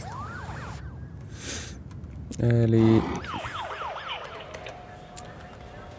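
Police car sirens wail in the SimCity (2013) city-building game, rising and falling sweeps at the start and again after a short, loud horn-like blast, over a steady background hum with faint talk.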